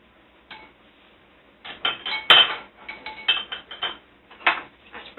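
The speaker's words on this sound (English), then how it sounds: "Spread my refried beans across the quesadilla on half of it." A utensil scrapes refried beans across half of a quesadilla in a home kitchen, making scattered, uneven scraping and clicking strokes that come close and fairly faint, with short pauses between passes.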